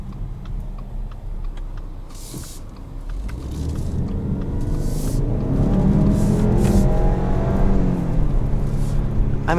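A 2020 Subaru Ascent Touring with a 2.4-litre engine accelerating, a steady low rumble that rises and swells in loudness as speed builds, heard from inside the car with no talking.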